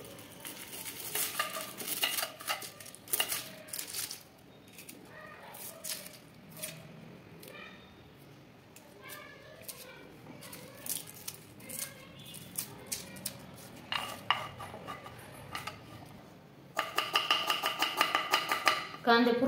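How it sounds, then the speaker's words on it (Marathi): A knife chops onions for uttapam on a board in quiet, uneven taps, with louder bursts of fast cutting, then a brisk rapid run of chopping near the end. A voice speaks faintly underneath at times. "तर मी आता कांदे चिरून घेते।"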